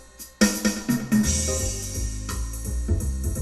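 A General Music WK-4plus keyboard plays a swingier rhythm intro, opening with a sharp drum hit and busy chord stabs before settling into a walking bass groove, loud and close with no talking.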